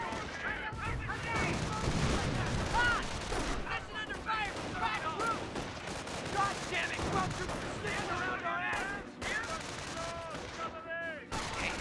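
Gunfire and artillery from a Company of Heroes battle, a US versus Wehrmacht match with a large gun shelling hedgerows, bursts of shots and booms running steadily under continuous commentary.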